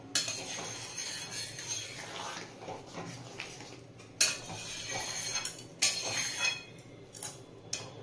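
Matar paneer with chopped coriander being stirred in a metal pan, with a spoon scraping and clinking against the pan in soft irregular strokes, louder taps now and then, and no talking.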